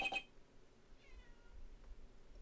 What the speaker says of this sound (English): My cat is still meowing at me because it can hear me.